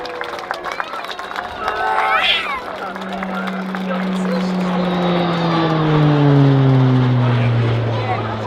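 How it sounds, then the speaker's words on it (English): A Pilatus PC-9A turboprop flies an air display, its engine drone swelling and then sliding down in pitch as it sweeps past in a tight turn. "You can see how tight the PC9 can turn."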